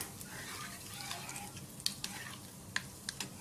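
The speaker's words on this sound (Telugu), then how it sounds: "ఒక లైట్ బ్రౌన్ కలర్ వచ్చే వరకు వేయించుకోవాలి" Food frying in a pan until light brown for a simple macaroni dish, a steady soft sizzle with occasional sharp clinks of a utensil stirring against the pan, close and fairly quiet.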